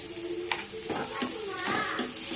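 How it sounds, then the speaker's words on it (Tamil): Onions and curry leaves sautéing in a pan for a potato masala, a steady sizzle broken by several louder scraping stirs, close and with no voices. "வெங்காயம் கொஞ்சம் நேரம் நல்லா வதக்கணும்."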